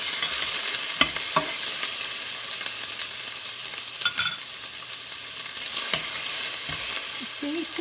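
Crushed ingredients frying in a hot pan for a red bean stir-fry curry, a steady sizzle with occasional scraping stirs and light clinks, close and without talk.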